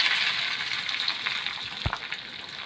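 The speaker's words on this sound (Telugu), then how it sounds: "ఇవి మాత్రమే ఫ్రై చేసుకుని మిగతా ఏవి మనం ఫ్రై చేయాల్సిన అవసరం లేదు" Ginger, garlic and green chillies frying in a pan, giving a steady close sizzle with a few soft stirring scrapes and one brief thump near the end.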